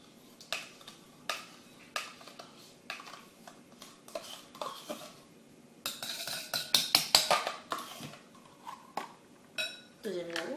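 Yogurt spooned into a salad bowl: soft spoon scrapes and light clinks against the bowl, building into a denser flurry of clattering scrapes midway, with quieter background noise between.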